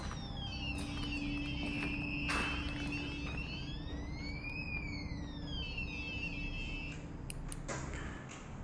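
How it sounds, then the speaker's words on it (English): A micro radar detector alarm goes off inside a tunnel, giving faint, repeated electronic tones that sweep up and down in pitch with a few clicks, and no one talks. "Anything that breaks the field for the micro radar detector elicits this alarm."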